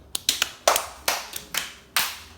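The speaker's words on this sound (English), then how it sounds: "Clap for yourself." A child claps hands in a home kitchen while cooking homemade pancakes, about eight sharp, uneven claps close by, with no talking.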